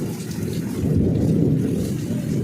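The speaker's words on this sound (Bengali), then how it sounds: "হেভি জোরে জোরে বৃষ্টি পড়ছে, আর প্রচণ্ড লেভেলের বাজ পড়ছে" Heavy monsoon rain pours down in a dense, steady roar while thunder rumbles low underneath, loud and continuous with no voices.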